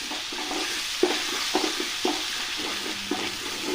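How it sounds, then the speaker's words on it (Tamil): Ground urad dal batter stirred into hot oil already fried with turmeric and chili powder, giving a steady frying hiss with a few soft scraping stir knocks spaced through it, close by and with no talk. "கடைஞ்ச உளுத்தம் பருப்பை இப்போ அதில் அப்படியே சேர்த்துட்டு நல்லா கிளறி விட்டுக்கோங்க"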